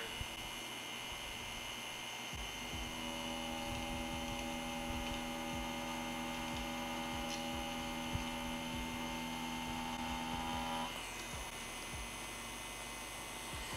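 A tattoo machine lines on Trueskin fake torso skin, buzzing faintly with a constant electric hum and small irregular ticks for around eleven seconds before quieting.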